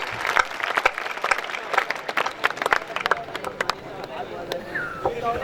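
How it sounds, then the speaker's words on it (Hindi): An audience at a night-time kavi sammelan poetry gathering in a school auditorium applauds a Sikh poet. Sharp, scattered, uneven claps come close and distinct, then thin out, and a voice speaks briefly near the end. "अपने प्यारे से सरदार जी के लिए जोरदार तालियां बिखरें"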